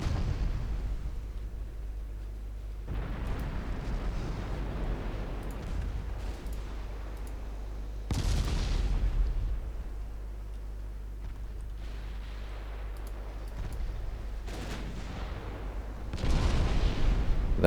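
Naval guns boom and shells explode in a warship video game set in a 1926 Norwegian campaign against a Chinese navy, with a light cruiser taking fire; loud rumbling bursts arrive in waves, the biggest near 3, 8 and 16 seconds.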